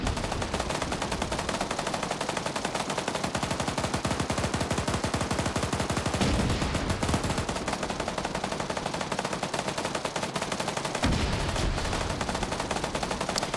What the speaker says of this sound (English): Yeah, now this tank is shooting.